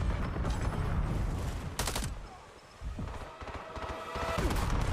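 Rapid gunfire and a grenade blast in a Black Ops first-person shooter match, loud bursts of shots crowding together, with a brief lull before more firing resumes.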